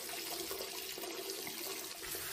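Running water pours steadily from a tap into a sink, a continuous close splashing hiss used to rinse off a cockroach, with no talk over it.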